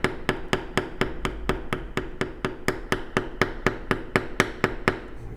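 A mallet strikes a bevel tool on leather in a steady, even series of about twenty sharp taps, close and clear with no talk.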